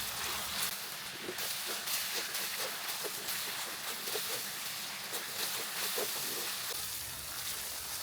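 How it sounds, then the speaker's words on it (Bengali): Ginger garlic paste fries in a hot pan for a Shahi chicken roast, a steady loud sizzle and hiss throughout with faint stirring scrapes and no voice. "এখন এটা হালকা একটু আমি ভুনে নেব"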